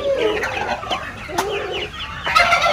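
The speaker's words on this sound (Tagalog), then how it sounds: "Mayroon tayong 300 heads na 6 days old na broiler chicken." Six-day-old broiler chicks in a flock of about 300 peep and cheep continuously, a dense overlapping chorus of high chirps close by with no talk.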